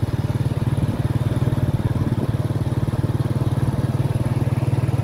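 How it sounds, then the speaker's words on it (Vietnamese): Cars and motorbikes run along a road by the My Phuoc industrial park in Vietnam, a loud, close engine drone with a fast, steady pulsing beat and no pause. "Ô tô xe máy chạy liên tục."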